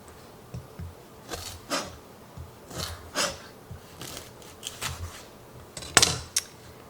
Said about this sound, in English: And then I cut them in half.